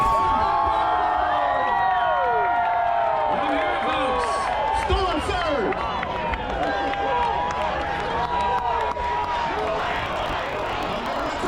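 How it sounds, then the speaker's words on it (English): Spectators chanting together at the Florida Man Games during a relay with a copper-pipe trailer, a loud, rhythmic crowd roar with cheering, while a voice talks over it. "The crowd here is chanting "in the pool""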